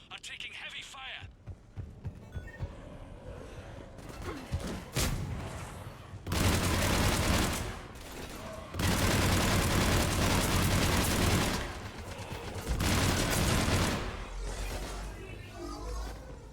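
Heavy gunfire and throbbing explosions in a Mass Effect battle, with loud sustained bursts of weapon fire alternating with lower rumbling passages and hum.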